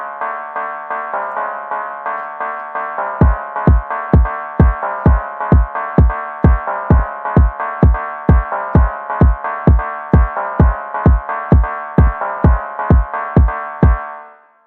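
Basic phonk beat pattern played back in a DAW: a loud repeating loop with a sustained melodic layer, then heavy booming bass kicks landing in a steady fast rhythm until it cuts off.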